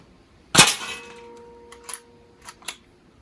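Air rifle pellet from a Weihrauch HW100 PCP striking a metal zombie target, one loud ringing clang that decays, followed by a few fainter metallic taps.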